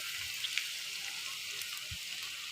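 Taro pieces fry lightly in oil with a soft, steady hiss and sizzle, quiet and close, with a few faint bumps and no talking.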